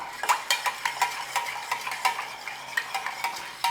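Beef stock stirred into a pan of flour-thickened minced beef for individual pie gravy, with a spoon or utensil scraping and clinking against the pan in steady, close, repeated strokes and a faint sizzle underneath.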